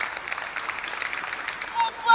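Stadium crowd clapping rhythmically for a javelin thrower at the European Throwing Cup in Leiria, a steady, moderately distant patter of claps with a few brief tones near the end.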